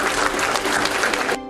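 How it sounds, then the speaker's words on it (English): A conference audience breaks into dense, steady applause for itself after a leadership talk, loud and close, stopping abruptly at the end. "Give yourselves a round of applause."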